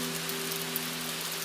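Soft rain falls on a calm Tokyo night, a steady even hiss of drops on surfaces with a faint low hum underneath, and no voices.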